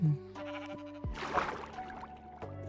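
A Minecraft sheep bleats a few times over a background of steady tones, with a louder, rougher burst in the middle; no one speaks.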